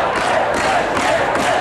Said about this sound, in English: Even cheers from the crowd couldn't convince Dion to participate.